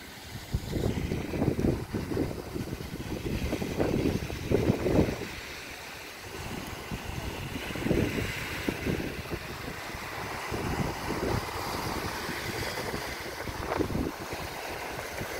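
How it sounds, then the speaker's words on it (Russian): Gusty wind buffets the microphone while sea waves wash and break nearby on the beach at Melekino, in uneven surges. "Дует ветер, поэтому волны."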